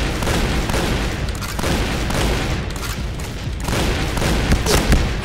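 Shooting in the zombie mode of the online shooter Point Blank: a constant, chaotic barrage of overlapping gunshots and booms, loud and unbroken from start to finish.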